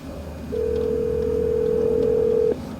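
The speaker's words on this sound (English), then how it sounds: "Let's make a phone call real quick." A single steady electronic phone-call tone sounds for about two seconds over a faint background hum, coming through car speakers via a Bluetooth FM transmitter.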